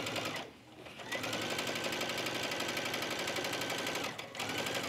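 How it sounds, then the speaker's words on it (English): A sewing machine runs steadily while stitching a neckline placket on a top, a close, fast, even whirr that dips briefly twice as it slows and restarts, heard alone without talking. "Back stitch and stitch to the end."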